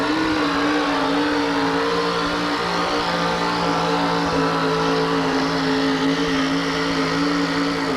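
A pulling truck built around a home-built engine roars steadily at full power during a 1988 tractor and truck pull in Kansas City, a loud continuous drone with a deep rumbling tone throughout, no speech over it.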